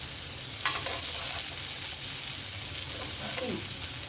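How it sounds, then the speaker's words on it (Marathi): Kothimbir vadi, spiced coriander fritters, shallow frying in a pan of hot oil, giving a steady close sizzle and crackle throughout with a few faint clinks of utensils. "किंवा हे असं शॅलो फ्राय पण करू शकतो"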